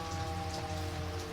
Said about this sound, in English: A low voice spoke, almost lost in the sound of the rain.